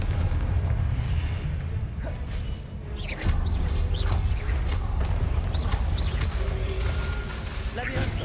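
Confringo blasting spells explode repeatedly in Hogwarts Legacy on PS5: loud, booming bursts over a constant roaring rumble, with a voice shouting spell incantations between the blasts.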